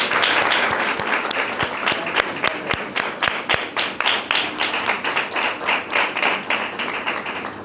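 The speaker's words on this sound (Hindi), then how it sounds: "तो ये सिस्टर के लिए जोरदार तालियां बजाएं" Loud, sustained applause from a church congregation at a Hindi-language sermon, dense clapping with sharper individual claps standing out throughout.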